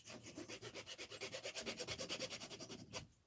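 Rhythmic back-and-forth filing on a small RC car part from a Kronos XTR, about twenty quick rasping strokes in a steady beat, close and alone, ending abruptly.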